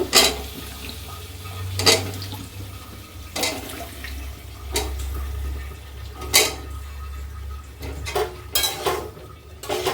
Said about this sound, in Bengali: এখন মূলাটা দিয়ে আবার একটু কষিয়ে নিব